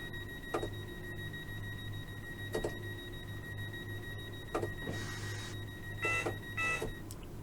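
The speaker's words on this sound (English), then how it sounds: "Time to lock the doors, 30 seconds before departure." In the Train Sim World 2 Isle of Wight 2022 scenario, a train door locking warning plays as repeated short beeps and chimes over a low steady hum, growing busier toward the end.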